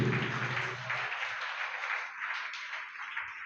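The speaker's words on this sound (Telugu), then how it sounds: "చప్పట్ల గట్టిగా చెప్పండి" Applause from an audience at a sermon gathering swells into a dense wash of clapping that carries on after a voice fades at the start.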